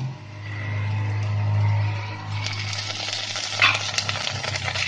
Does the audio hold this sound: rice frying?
yes